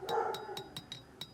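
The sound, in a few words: dog barking in the background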